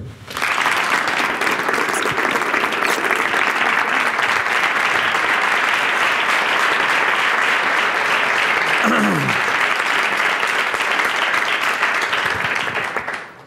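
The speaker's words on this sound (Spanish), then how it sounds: "quiero pedir para ti un fuerte aplauso" An audience gives a long, strong round of applause that stays dense and even for over twelve seconds, with brief crowd voices mixed in, before fading out at the end.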